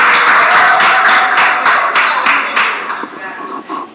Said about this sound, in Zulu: Ngicela sishayine ihlombe